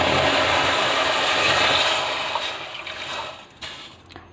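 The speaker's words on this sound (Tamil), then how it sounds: "இதுக்கு தேவையான அளவு தண்ணி ஊற்றிக்கலாம்" Water poured over turmeric-dusted lentils in a cooking pot: a close, steady splashing hiss for about two seconds that thins out and ends with a few small clinks.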